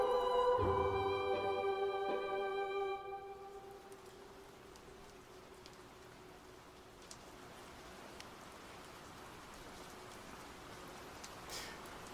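In the VR game Blood on the Clocktower, steady soft rain hiss marking the night's end fills the air after a fading musical tone, continuing evenly with occasional faint drip-like ticks.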